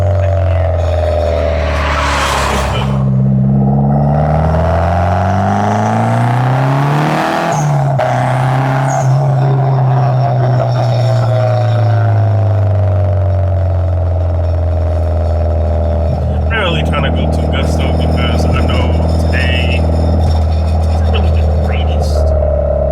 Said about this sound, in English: it's just like wind pouring into the car